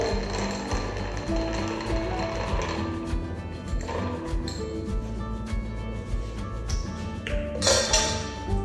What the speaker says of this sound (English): I will use my bar spoon in order to mix everything together.